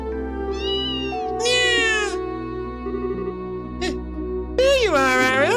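A cat meowing in the video game Trails in the Sky SC, several drawn-out rising and falling meows, the last one longest and loudest, over a soft steady background hum of game music.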